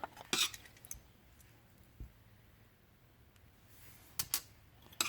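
Small brass bypass valve being pulled from the float bowl of a Volkswagen air-cooled IDF carburetor on a workbench, giving a few faint metallic clicks and scrapes with quiet pauses between them.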